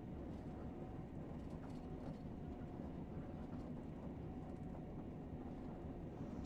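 A locomotive in Train Sim World runs at full throttle, giving a steady low rumbling drone with faint rhythmic rail clatter that carries on unbroken and without speech.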